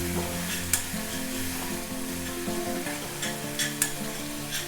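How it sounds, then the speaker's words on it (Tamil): Food for a coriander idli fry sizzles steadily in a hot pan, stirred occasionally with soft scraping clicks. The frying is close and even throughout, with no talking. "கலர் மாறாமல் லைட்டாக ஒரு வதக்க போகிறோம்"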